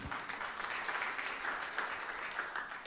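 A church congregation applauds during a sermon: a fairly quiet, steady wash of many hands clapping that holds evenly across a few seconds, as if heard from a distance.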